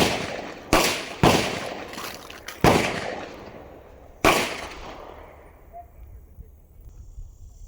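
A shotgun, either a Mac 1014 or a Beretta 1301 Tactical Mod 2, fires four loud, sharp blasts close by at irregular intervals, each followed by a ringing decay into quiet outdoor background.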